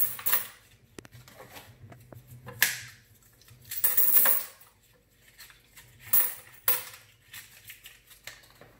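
Quarters pour into a 5x Pay slot machine in bursts: several loud metallic clattering cascades of coins, separated by quieter pauses and lighter clinks.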